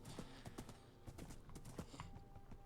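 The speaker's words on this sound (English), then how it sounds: "a horse riding effect" Rapid, rhythmic clip-clop of horse hooves during riding in a modded Minecraft game, quick repeated clattering steps at an even trotting pace, close and fairly quiet.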